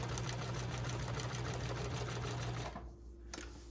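A sewing machine runs a long basting stitch around the edge of a quilt block, a steady close whirring drone that continues for most of the stretch, then stops abruptly near the end.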